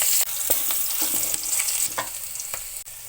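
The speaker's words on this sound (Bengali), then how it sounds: "এখন আমি এই তেলের মধ্যে সামান্য একটু পেঁয়াজ ভেজে নিব" Chopped onions fry in hot oil left over from frying tilapia, a steady close sizzle with occasional stirring clatters of the spatula, heard alone without talk.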